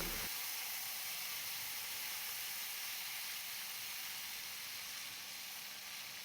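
Mustard seeds, cumin and asafoetida crackle and sizzle in hot oil for a Sev Usal tempering, a steady, dense frying hiss held close and level throughout with no talking.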